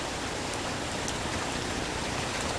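Rain falls steadily in a dense, even hiss with faint scattered drops tapping nearby, continuous and unbroken throughout, no voices.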